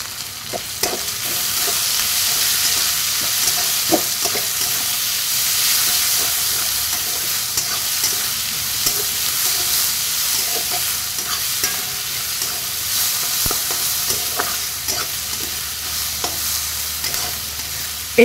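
Crushed garlic and chopped onion sizzle steadily in a hot pan, a continuous frying hiss with occasional stirring scrapes and clicks throughout.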